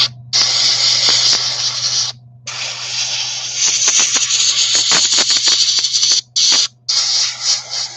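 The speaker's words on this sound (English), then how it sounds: "this airbrushing is going far better than it was the other night" An airbrush sprays paint onto PSC Sdkfz 251 model half-tracks as a loud, steady hiss with a few short breaks, over a low, constant compressor hum.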